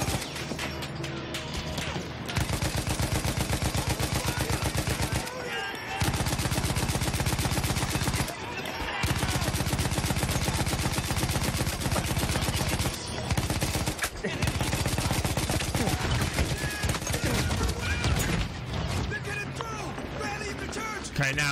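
A mounted machine gun turret in Battlefield 1 fires long, loud, continuous bursts that sit right up close, broken by a few short pauses between volleys.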